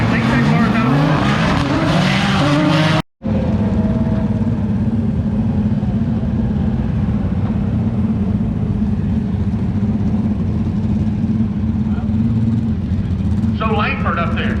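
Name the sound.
Chevrolet Corvette C8 Stingray roll racing, tires squealing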